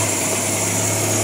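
A Nissan C22 Vanette engine idles just after starting, with ignition timing and points set wrong: a steady, close, buzzing hum with constant vibration and no talk.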